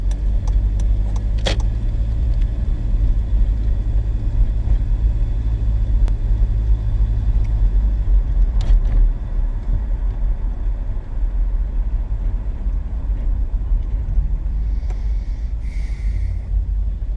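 Steady, loud road rumble from a car being driven, a constant low drone of engine and tyres with a few light clicks and rattles inside the cabin, no talking.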